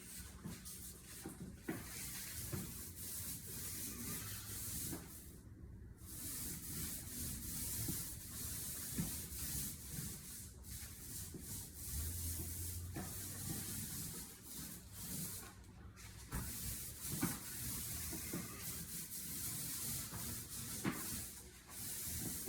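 A paint roller works across a ceiling, giving a continuous close wet rubbing hiss with rhythmic strokes and brief pauses as it is reloaded or repositioned, heard alone without talk.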